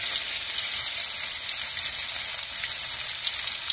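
Crushed garlic, pounded on a grinding stone, frying in oil for a Bengali jute-leaf dish with dried shrimp, a dense, loud, unbroken hiss of sizzling close by with faint stirring, no voices.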